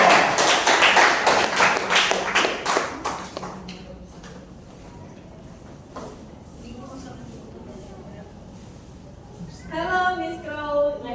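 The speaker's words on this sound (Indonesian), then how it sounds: "Beri tepuk tangan dong." A classroom group claps for students about to perform a dialogue, with a burst of brisk clapping at the start that fades out, followed by a quiet stretch and then voices speaking near the end.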